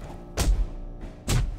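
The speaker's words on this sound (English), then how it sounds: "I'm punching a sack of meat on the ground," Fist punching a sack of meat on the ground in 7 Days to Die, two dull, close thuds about a second apart.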